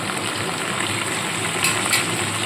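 Spice masala with coriander powder and salt fries in a pan for a cabbage kofta curry, giving a dense, continuous close sizzle with a couple of brief stirring clinks near the end.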